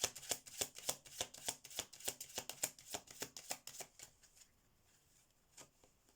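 A deck of oracle cards is shuffled in quick, rhythmic riffling bursts for about four seconds, crisp and close, then the sound stops with only a faint card rustle afterward.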